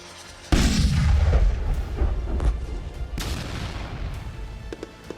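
A single heavy anti-tank guided missile explosion booms suddenly and rolls on with a long rumbling echo, followed by a few faint distant pops.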